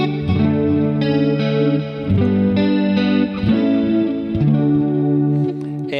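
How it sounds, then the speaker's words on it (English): An electric guitar plays chords through a practice amp with reverb and delay, sustained shimmering tones shifting every second or so, close and fairly loud with no talking. "It's got some reverb in there, some delay."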